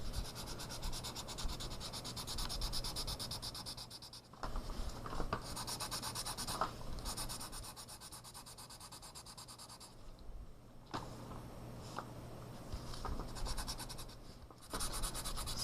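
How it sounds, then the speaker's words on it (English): Steady scratchy rubbing of a pencil across paper, continuous back-and-forth strokes close up with brief pauses, no voices. "So I'm just coloring this in."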